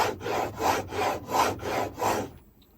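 Chisel sharpened on a DMT diamond plate: five rhythmic back-and-forth grinding strokes, close and loud, then a brief quiet stop.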